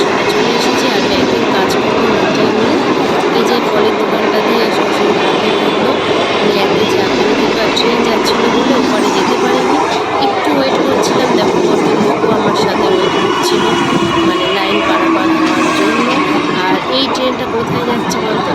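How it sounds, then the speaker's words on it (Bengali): A passing train headed to Sealdah rumbles as a steady, loud wash of low noise close by, with people talking over it throughout. "এই ট্রেনটা হচ্ছে শিয়ালদা যাচ্ছে"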